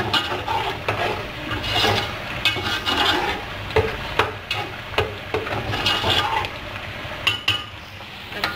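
Yogurt mixed with white cumin is stirred into a pan of chicken korma masala, with a moderate sizzle under repeated scraping and clinking spoon strokes at close range.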